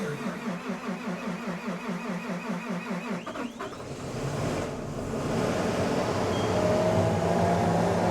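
Diesel engine in a snowy barn setting cranks with a rapid rhythmic churn for about three seconds, then catches and settles into a steady, close idle rumble.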